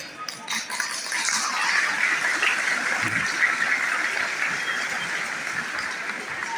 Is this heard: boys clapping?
yes